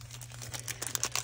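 Crinkling plastic wrapper of a Pokémon card pack being worked at, a faint, brief rustle of crackles and small tearing ticks.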